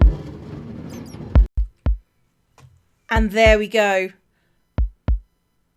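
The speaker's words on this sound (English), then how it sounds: "The heart beating." A heartbeat plays from a Minecraft build in the game, a series of low thuds in pairs with gaps between them, while someone talks briefly over them.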